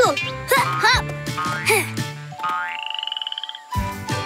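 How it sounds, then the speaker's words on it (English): Little frogs croaking in a jungle, a series of loud, close, bouncy chirping croaks in quick bursts, then a rising trill and a final croak. "These little frogs really stand out in the big jungle."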